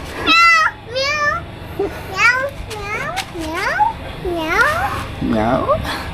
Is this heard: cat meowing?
yes